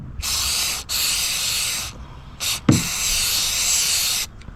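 Aerosol sealant sprayed onto the cracks of a kayak in several close, loud hissing bursts separated by short pauses, with a faint thump midway.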